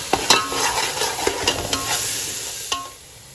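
Goan beef and pork stew ingredients fry in a pan: a steady broadband sizzle, near and moderately loud, broken by several sharp spatula or spoon clicks and scrapes as they are stirred, with no talking.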